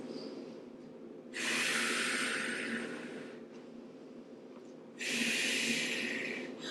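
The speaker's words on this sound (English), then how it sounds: "3 big breaths" Two long, loud, airy breaths during a Pilates hip-release stretch on the mat, each held for a few seconds with a short pause between, close and alone with no talking.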